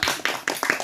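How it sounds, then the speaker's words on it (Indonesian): A group of students applauds in a classroom counseling session, with several quick bursts of clapping in a rhythmic pattern, close and fairly loud, with no talk over it. "oh iya tepuk tangan dulu"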